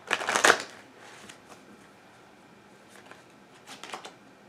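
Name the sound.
shuffling cards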